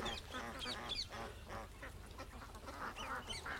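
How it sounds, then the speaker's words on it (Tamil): English ducks on a farm give repeated honking quacks from several birds at once, a busy overlapping chorus that continues throughout. "இது இங்கிலீஷ் வாத்துன்னு பேர்."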